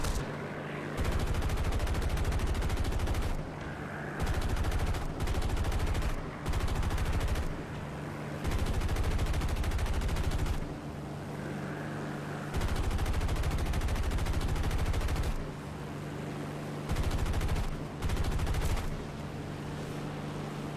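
Tank machine gun in War Thunder firing long sustained bursts, each several seconds long with short pauses between them, loud and close over a low steady engine hum; no talk.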